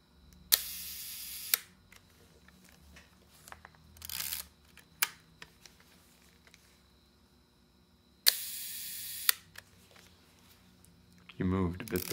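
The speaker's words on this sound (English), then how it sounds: "lower that shutter speed." Single-lens reflex camera shutter clicks in a quiet room, several sharp mechanical releases, some followed by a slow long-exposure hold before closing, with soft handling noises between them.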